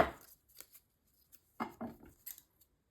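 Scissors trimming paper for a sea-themed mini craft album, a few quiet, close snips and crisp paper rustles scattered across a near-silent room.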